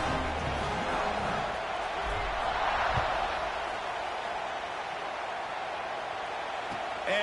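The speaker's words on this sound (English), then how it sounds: "They're ready to kick it away, and this crowd is buzzing after that last score" A football stadium crowd at a Michigan versus Michigan State game buzzes in a steady distant roar before a kickoff, with a brief swell of cheering partway through.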